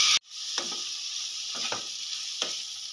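Chicken hits hot spice masala in a pan, starting a sudden loud sizzle that holds steadily, broken by a few scraping stirs.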